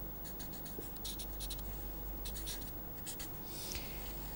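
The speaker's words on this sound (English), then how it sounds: "So, I will draw the same vector v." A vector is drawn by hand, giving close, quiet scratchy strokes of a pen on a writing surface in short bursts over low background hum, with no one speaking.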